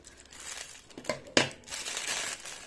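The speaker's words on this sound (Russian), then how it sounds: "Вот такой вот мусорный пакет." A plastic trash bag crinkles and crushes in hand while being unpacked from an AliExpress parcel, a close rustling burst with one sharp crackle and softer crumpling after.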